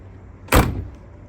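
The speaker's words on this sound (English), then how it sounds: "Door closes nicely." A car door on a 1965 Plymouth Barracuda custom build with new weather stripping swings shut in one solid, close thump with a short settling tail, heard alone in a quiet space.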